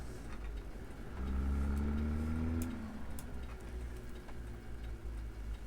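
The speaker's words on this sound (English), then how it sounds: "Just going to let the truck kind of idle along." A truck hauling a step deck trailer idles with a low rumble that swells briefly, then settles back to a steady hum amid faint outdoor noise and occasional ticks.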